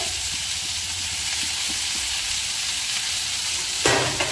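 Chilli chicken with chopped tomato and red chilli powder sizzles loudly in a hot pan, a steady hiss throughout with a sharp clatter of stirring near the end.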